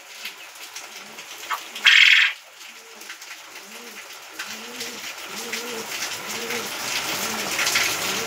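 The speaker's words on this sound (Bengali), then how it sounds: "এখানে আছে গিরিবাজ পায়রা এক জোড়া, খুব ভালো জাতের গিরিবাজ।" A pair of Giribaz pigeons coo in a loft, the low rolling calls starting faintly and growing into steady repeated phrases near the microphone, after a brief sharp noise early on.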